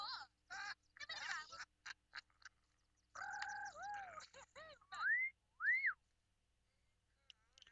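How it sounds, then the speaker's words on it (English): Sims characters in The Sims Life Stories whistle in short, bright, swooping bursts, some rising and falling like wolf whistles, with gaps of near silence between them and no talk over them. "Who's whistling at who?"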